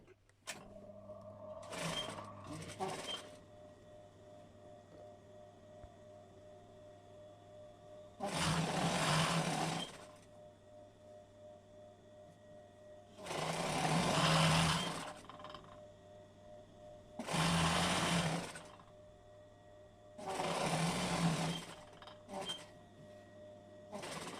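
A sewing machine stitches quilt fabric in four separate bursts of rapid stitching, each a couple of seconds long, with quiet pauses and a low hum between.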